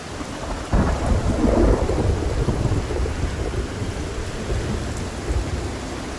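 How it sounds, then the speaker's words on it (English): Thunderstorm in the video game Project Zomboid: a loud thunder rumble rolls in after a moment over constant heavy rain hiss, then fades into steady downpour. "This storm is getting loud."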